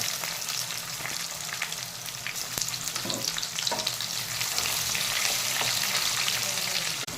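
Onion frying in hot oil with mustard seeds, chana dal and cumin, a loud, continuous sizzle that stays steady throughout, with occasional stirring scrapes in the pan.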